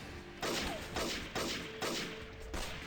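Gunfire from the arena mode of MADNESS: Project Nexus, with four loud, evenly paced shots, each a sharp crack trailing into a short decay.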